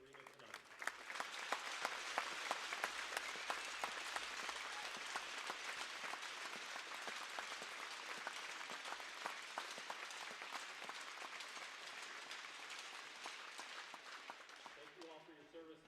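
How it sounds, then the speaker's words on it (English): Arena crowd at a high school ice hockey game applauding veterans, dense sustained clapping and cheering that fills the whole stretch at a steady level, heard from a distance. "Round of applause for every veteran in the arena tonight."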